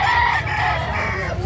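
A green-legged, derby-size gamefowl rooster in Carbon, Cebu gives a loud, close, drawn-out crow with harmonic, wavering tones, and no voices over it.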